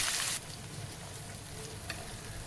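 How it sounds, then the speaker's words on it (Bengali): Black cumin seeds and two dried red chillies frying in hot mustard oil, a loud sizzling burst at first that settles into a steady crackling fry with small pops, close by. "তেলের মধ্যে দিলাম কালো জিরে আর দুটো শুকনো লঙ্কা ফোড়ন"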